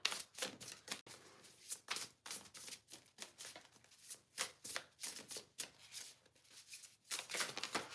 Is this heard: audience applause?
no